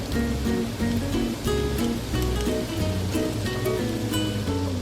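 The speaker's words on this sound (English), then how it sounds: "we're going to add those potatoes to a hot skillet that's been filled with your favorite oil" Potatoes frying in a hot oil-filled skillet with salt and pepper, a loud, dense, continuous sizzle and crackle filling the whole stretch with no talking.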